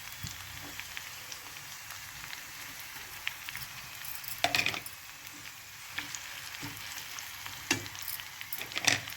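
Cumin, curry leaves and green chillies crackle in hot oil as a tempering for semiya pulihora, a faint, continuous sizzle with a few sharper pops and no voices.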